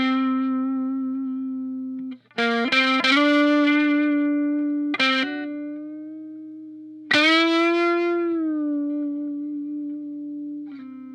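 Electric guitar through a Donner Extreme Driver distortion pedal rings out in long, saturated sustained notes with a few quick picked bends between them, loud and close with no talk.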